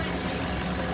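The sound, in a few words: buses passing by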